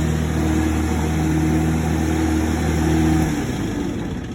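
Steady mid-pitched engine drone from a truckmount carpet cleaning machine warming up with the choke pulled, running continuously and loud with a slight shift in tone near the end.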